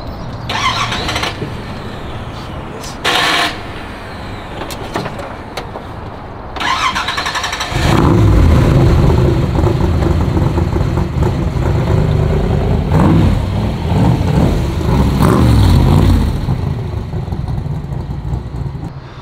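A Ford GT40 replica supercar cranks with a few short starter bursts, then fires into a loud, rough engine rumble that idles and revs unevenly for more than ten seconds close by.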